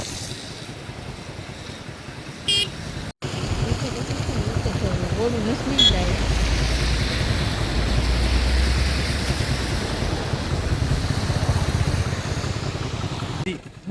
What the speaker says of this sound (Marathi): आता पाहू शकता फुल नदी भरून चाललेली आहे